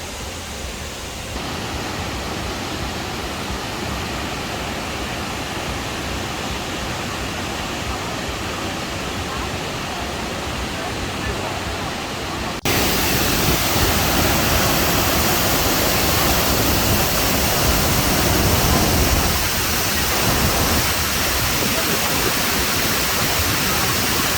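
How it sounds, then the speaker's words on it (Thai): Powerful waterfall on the Bolaven Plateau in Laos, a steady broadband roar of heavy falling water that grows louder partway through as the listener nears the falls. "ตอนนี้เป็นจุดแรกที่เราสามารถเห็นน้ำตกได้ น้ำแรงมาก"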